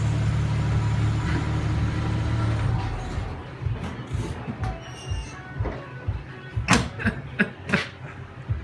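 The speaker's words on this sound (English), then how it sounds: "It's slipping the clutch the whole way." A 1964 Chevy II Nova with a slipping clutch drives with a steady low engine drone that fades into rattles, bumps and sharp clunks, heard close from inside the car.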